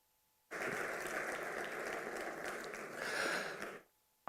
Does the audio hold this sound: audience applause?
yes